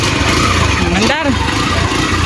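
A Motor STX 125 motorcycle engine runs after a gasoline leak repair, a continuous close mechanical drone with a short rising rev in the middle.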